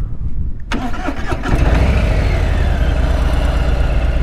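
A motorcycle with a proximity key cranks briefly with a close, whirring starter, then catches and settles into a steady, loud, rumbling idle.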